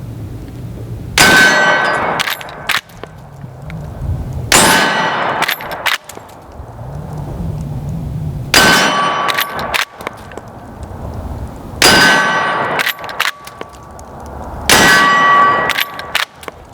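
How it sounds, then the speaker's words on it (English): Bullets from a Marlin 336 lever-action 30-30 rifle striking a steel target plate, five loud distinct shots each followed by a ringing metallic clang, evenly spaced with outdoor quiet between them. "how hard that 30-30 is smacking that plate"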